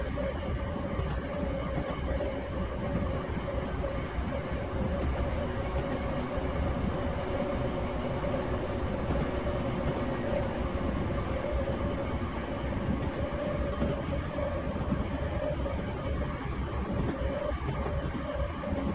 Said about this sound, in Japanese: 列車はこれより千葉都市圏へ入っていきます。